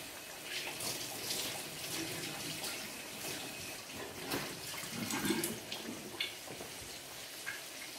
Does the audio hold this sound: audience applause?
no